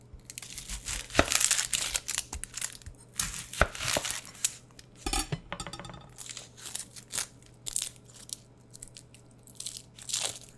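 Knife cutting through a red onion on a board, with crisp, crunchy slicing strokes in an irregular rhythm; a quick run of rapid chops in the middle, all close and clear with no talking.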